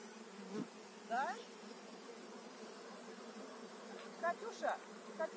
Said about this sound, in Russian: я рой собираю с пчелами